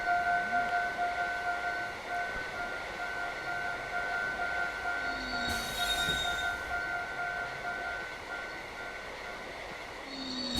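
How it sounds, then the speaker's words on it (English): A train rolls along its rails in the A-Train railway-building video game, giving a steady, continuous rumble with drawn-out squealing tones layered over it and no voices. "So I wonder if this is the end of the line for this train now, or if it'll keep going."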